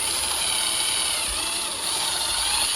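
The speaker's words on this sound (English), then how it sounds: "So I'm going to start with just piloting a hole here." A power drill whines steadily at high pitch drilling a pilot hole in metal on a 1995 Ford F150, a continuous grinding buzz close by with no talking, holding constant for a few seconds.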